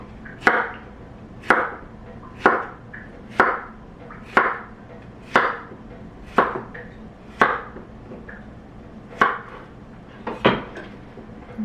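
A knife chopping zucchini into uneven chunks on a cutting board for ratatouille: a steady series of about eleven sharp, close knocks, roughly one per second, with no talking.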